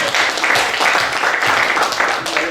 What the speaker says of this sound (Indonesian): Tepuk tangan sama Amanda.